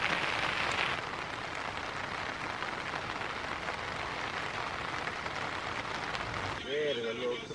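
Heavy rain drums steadily on a tent overhead in a jungle, a dense continuous patter, with a brief voice near the end.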